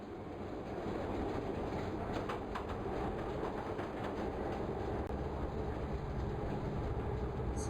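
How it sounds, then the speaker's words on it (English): Video game trains roll along the rails with a continuous rumbling clatter and faint rhythmic clicks, while chirping birds sound over the top. "Trains are moving!"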